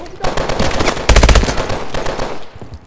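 Automatic gunfire in Call of Duty: Advanced Warfare, a dense, loud burst of rapid rounds that peaks mid-clip and trails off, with game effects throughout.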